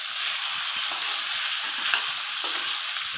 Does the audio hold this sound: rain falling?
no